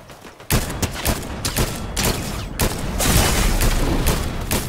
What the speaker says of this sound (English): they're shooting so much